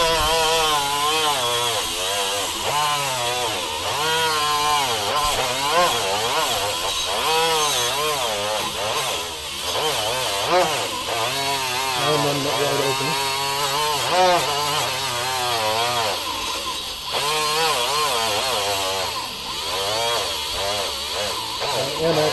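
A Ryobi 18V cordless die grinder grinds on a badly corroded axle shaft, a loud, harsh whine that wavers in pitch as the load changes, running continuously and close up with no talk.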